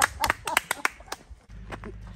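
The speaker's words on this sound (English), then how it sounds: "I'd like a round of applause." A few people outdoors on a long-distance hundred-mile charity walk give a walker a short, sparse round of clapping, a handful of sharp, uneven claps close by, then a low steady rumble.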